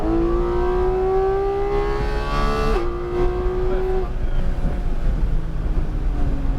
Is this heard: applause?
no